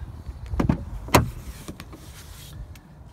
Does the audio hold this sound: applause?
no